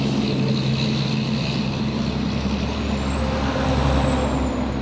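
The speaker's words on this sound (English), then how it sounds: "Number 12, logging truck number 12." A logging truck rolls past on a rural Oregon road, a steady, loud low engine and tyre roar lasting throughout, with a hiss that fits air brakes and a faint rising whine near the end.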